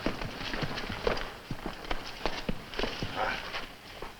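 Horse hooves clip-clop at a walking pace on hard ground, a string of irregular close thuds at moderate volume with soft background noise.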